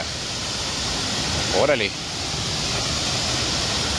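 Steady broadband rush of a waterfall on a hiking trail, continuous and fairly loud, with a man's brief exclamation cutting in over it partway through.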